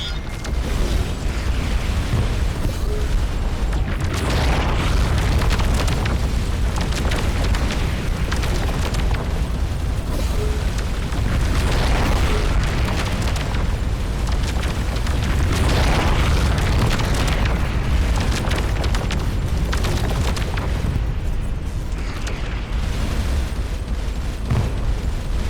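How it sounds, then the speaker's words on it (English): Missile strike explosions in the space game Starcom: Unknown Space, heavy booming blasts rolling one after another in a dense, loud barrage that continues without pause. "Those missile strikes are painful, man."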